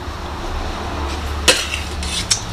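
Cooked luosifen river-snail rice noodles are scooped onto a plate, with a low steady hum and a few sharp clinks of utensil against dish.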